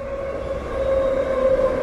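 A metro train in Medellín, Colombia, approaching the platform as a steady rumble with a rising tonal whine, near and moderately loud.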